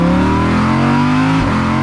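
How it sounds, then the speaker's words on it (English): A 2020 Audi R8 V10 Performance's naturally aspirated V10 revs hard, a loud, continuous high-pitched engine wail that holds steady, then dips briefly and climbs again. "the piece de resistance is the naturally aspirated V10 that you got to hear a soundbite of at the beginning of this video"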